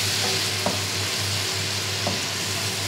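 Chicken macaroni stirred in a hot pan with red chili powder and ketchup, giving a loud, continuous close sizzle with a few soft scrapes of the spoon.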